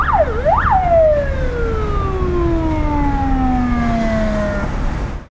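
Ambulance siren on a city street in Makhachkala, loud and close, sweeping up and down twice then sliding into a long falling wail as the vehicle passes, over a steady low traffic rumble.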